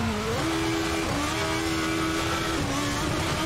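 A Formula Beta race car engine revs at high pitch in a racing video game, with steady gear-shifting whine, loud and continuous throughout.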